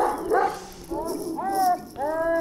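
A breeding dog barks several times in quick succession, loud and close, with a whiny, yelping edge to the later barks.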